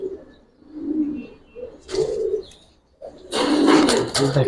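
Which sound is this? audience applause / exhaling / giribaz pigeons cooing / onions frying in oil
giribaz pigeons cooing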